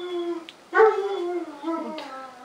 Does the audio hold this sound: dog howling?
yes